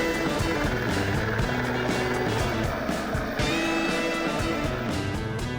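A helicopter lifts off in rain, its loud rotor and engine roar steady and close with rhythmic blade chop throughout.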